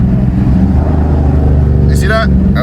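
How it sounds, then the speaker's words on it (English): A car engine roars steadily and loudly from inside the cabin during a paddle-shifter downshift, holding a deep, constant drone, with a brief voice breaking in near the end. "You hear how the engine is kind of roaring?"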